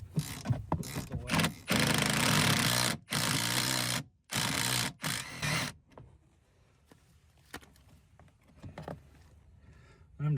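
A power tool whirs in several short and longer bursts while undoing a Torx bolt from a police car's rear partition, each burst loud and close, followed by quieter clicks and handling noise.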